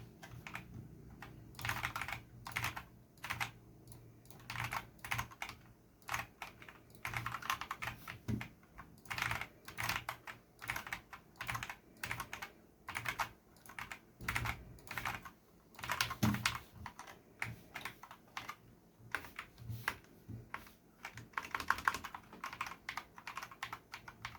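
Keys on a Lenovo GK304 TKL gaming keyboard clack in quick irregular bursts during gameplay, close up and moderately quiet, with short pauses between flurries of presses and no voices.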